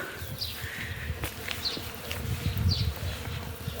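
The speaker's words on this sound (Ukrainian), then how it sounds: "Боже, тут пчіл? Бджіл. Їх тільки чутно, але я їх не бачу." Several bees buzz close by outdoors, a steady insect drone with brief louder passes as individual bees fly near, unseen, with no talk.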